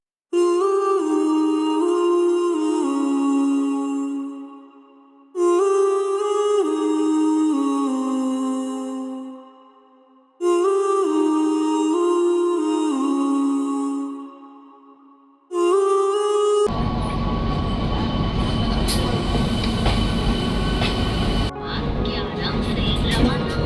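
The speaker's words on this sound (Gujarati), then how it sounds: "તો આવી ગઈ 12449 ગોવા સંપર્ક ક્રાંતિ" The Goa Sampark Kranti 12449 express pulls into an Indian railway station: four long repeated chime melodies ring out over the platform, then a loud, broad rumble and roar of the arriving train takes over for the last several seconds.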